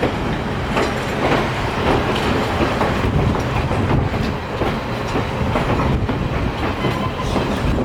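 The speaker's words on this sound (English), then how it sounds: "this short little run on the Niles Canyon Railway" A heritage train on the Niles Canyon Railway rumbles past continuously, wheels clattering rhythmically over rail joints with a heavy, close, steady roar and no voices.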